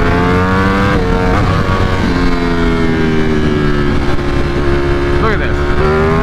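A tuned 2020 Ducati Streetfighter V4 with a flashed ECU accelerates hard, its engine note climbing through several gear changes in a loud, continuous roar close to the microphone.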